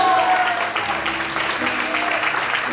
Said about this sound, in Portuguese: aplauda o Senhor essa noite